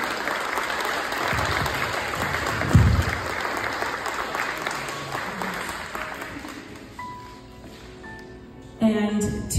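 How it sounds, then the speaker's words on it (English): An audience at a pageant crowning event claps in a dense, lively round that slowly fades, with a loud thump partway through and voices and music emerging as it dies away. "Can we give her a round of applause?"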